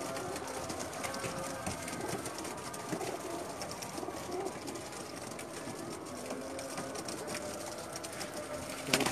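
Pigeons cooing on a rooftop in Jeddah, Saudi Arabia, a steady soft murmur of calls over a constant hum of background noise, moderately distant and faint.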